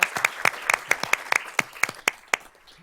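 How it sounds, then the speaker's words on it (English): A board of trustees meeting audience gives a round of applause, a sparse run of separate, sharp claps spaced across the room at moderate distance, thinning out toward the end. "Board, let's give Mr. Stacy and his office a round of applause"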